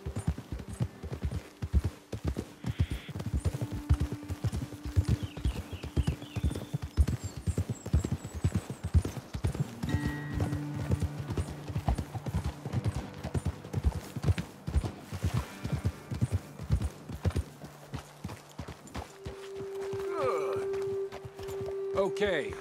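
Several horses ride in Red Dead Redemption 2, their hooves clip-clopping in a dense, steady rhythm that slows and thins toward the end, while voices talk over the hoofbeats.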